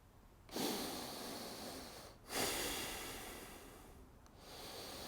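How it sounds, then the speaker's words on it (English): Full, slow breaths taken to recover after holding the breath: two long, quiet inhales with an airy, snorting rush, each starting abruptly and then trailing off softly, with no talking. "And then full, slow breaths to recover."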